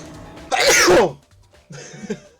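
A single loud, explosive sneeze close by in the video game Danganronpa: Trigger Happy Havoc, followed by a brief pause and then some quieter rustling or muffled vocal sounds.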